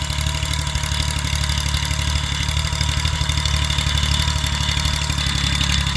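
A Kubota L2201 22 hp tractor engine runs steadily with a continuous low, even drone that stays close and loud throughout, during plowing of hard, dry paddy soil in Nakhon Ratchasima province, Thailand.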